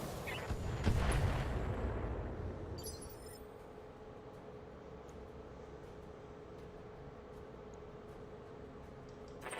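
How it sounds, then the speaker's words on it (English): LRM missile volley fired in a mech combat video game: a loud booming launch burst early on that decays into a sustained low rumble, with faint clicks and a brief higher whoosh trailing over it. "we're gonna shoot some LRMs. Roger that. Firing on target."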